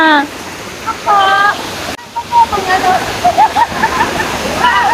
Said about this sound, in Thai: สวยมากเลย น้ำตกชั้นที่ห้า